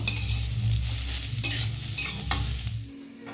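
Chopped cabbage is stirred in a hot frying pan, a loud close sizzle broken by rhythmic scraping strokes of a spatula, fading slightly at the end.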